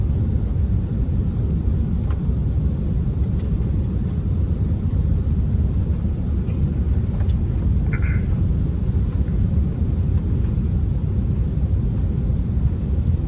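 A passenger airplane descending to land at a small airport, heard from inside the cabin: a loud, continuous low roar of engines and airflow, steady throughout, with faint brief ticks and clicks over it.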